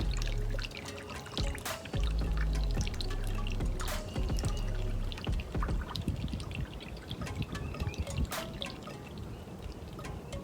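Yucca extract poured through a strainer into a gallon of water, giving a continuous close splashing pour with dripping and trickling, alone without talk.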